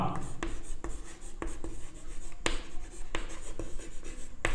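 Chalk taps and scratches on a board as a chemistry rate equation is written out. Sharp strokes come at an irregular rhythm, close and clear, with no talking.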